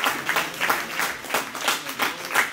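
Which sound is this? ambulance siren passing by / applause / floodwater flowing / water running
applause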